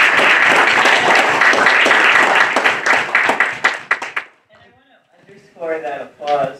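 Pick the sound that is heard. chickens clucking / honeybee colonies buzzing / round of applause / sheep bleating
round of applause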